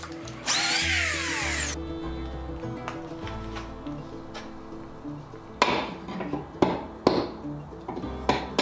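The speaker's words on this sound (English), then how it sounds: "I used the drill press again to drill holes in the breadboard ends" A drill press whines loudly for over a second while drilling holes in wooden breadboard ends, then scattered knocks and taps of tools on wood follow against a steady hum.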